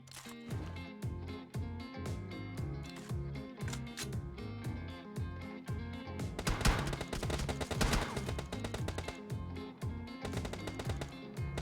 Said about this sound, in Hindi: और उसी टाइम हमको ना पीछे से कई शॉट पड़ते हैं